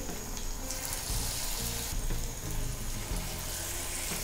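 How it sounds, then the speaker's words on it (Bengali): Mixed vegetable pakoras fry over medium heat in hot oil, giving a dense, continuous sizzle and bubbling that stays loud and close throughout. "এখন আমরা এটাকে মিডিয়াম হিটে ভেজে নেব"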